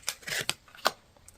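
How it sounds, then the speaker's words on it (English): Tarot cards are shuffled in a few quick, soft riffling bursts close by, separated by brief pauses, faint and without talk. "as I'm shuffling out these cards"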